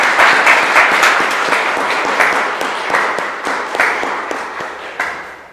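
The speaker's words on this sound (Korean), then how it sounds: "환영의 박수 드리시기 바랍니다" A church congregation claps in welcome for a returning accompanist during Sunday worship, a loud burst of applause with distinct individual claps standing out that thins gradually over several seconds.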